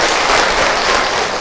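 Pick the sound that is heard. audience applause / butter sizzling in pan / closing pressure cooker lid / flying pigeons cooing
audience applause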